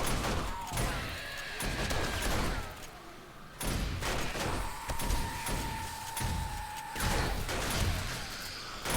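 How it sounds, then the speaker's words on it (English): Shotgun blasts and chaotic gunfire fill a survival video game scene involving a turret, with dense, continuous bursts and crashes layered throughout, loud and close, with no clear speech. "Apparently, shotgun blasts are also damaging this thing."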